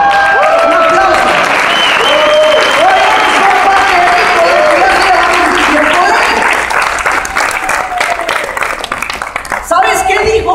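A crowd breaks into sustained applause at a Ricolife event, with voices and cheers mixed in. The clapping holds strong for most of the stretch, then thins and fades near the end.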